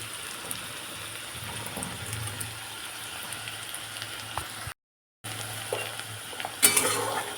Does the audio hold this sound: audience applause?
no